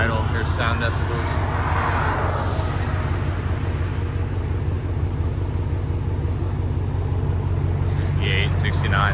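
A 2022 Jeep Wagoneer 5.7L HEMI V8 with true dual exhaust idles in a steady, low, even rumble that stays close and constant throughout.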